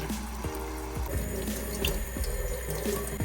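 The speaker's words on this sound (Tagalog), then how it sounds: "Banlawan ng ilang beses hanggang sa luminaw yung tubig." Steady running tap water pours into a sink, with repeated soft knocks and splashes as sticky rice is stirred and swished by hand.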